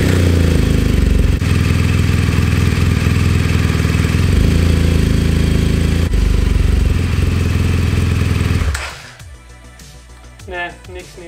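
A BMW R1200 GS LC motorcycle engine runs loud and steady close by for several seconds, then cuts off abruptly, leaving a quiet space with faint clicks and small noises.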